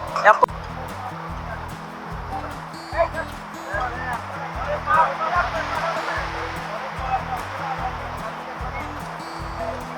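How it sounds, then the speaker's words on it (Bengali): Ocean waves at Cox's Bazar beach along Marine Drive give a steady broadband roar and wash that runs continuously beneath someone speaking throughout. "আপনারা স্রোতের গর্জন শুনতে পাচ্ছেন নিশ্চয়"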